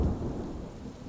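A thunderstorm brings a deep, rumbling roll of thunder mixed with steady rain, loud and low at first and then fading slightly over a short stretch.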